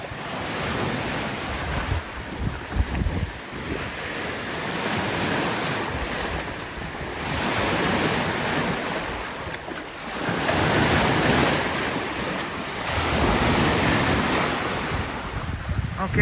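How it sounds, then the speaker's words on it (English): Waves crashing on a wild city beach, rolling surges that swell and fade every few seconds, loud and close with heavy wind buffeting the microphone and no talk. "I love the sound of the waves crashing."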